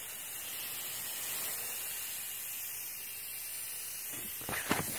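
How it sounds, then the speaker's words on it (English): An aerosol hair spray or spray-on deodorant can, rigged as a prank trap, releases a quiet, continuous hiss that holds steady for several seconds before a few brief knocks near the end. "And now it's spraying all this stuff."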